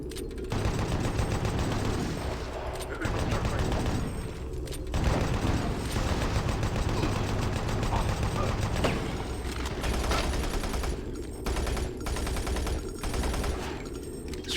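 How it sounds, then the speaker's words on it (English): Sustained rapid chaingun fire in Doom 3 BFG Edition, a loud, dense stream of automatic shots with brief gaps, layered over game ambience and combat noise. "Let's use this gun, the chain gun."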